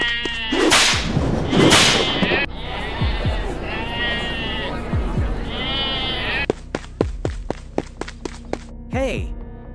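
Sheep bleat loudly and repeatedly up close, mixed with shouting voices and a rapid series of clattering knocks.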